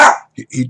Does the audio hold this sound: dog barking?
yes